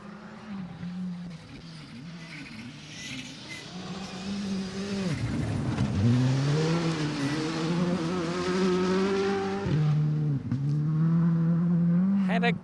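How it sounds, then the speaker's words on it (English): Skoda rally car at the 2023 Rally Queensland approaches and works through a corner, its engine note rising and falling with revs and gear changes, growing louder as it nears, with some talk underneath. "As we hear another car coming in"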